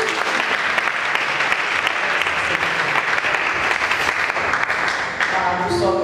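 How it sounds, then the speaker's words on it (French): A church congregation clapping together at a worship service, a dense, loud, sustained applause close around the listener with a few voices mixed in. "acclamons pour Jésus."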